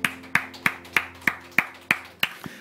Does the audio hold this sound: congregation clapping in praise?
yes